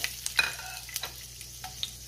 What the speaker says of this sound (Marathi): मोहरी आणि जिरे तडतडले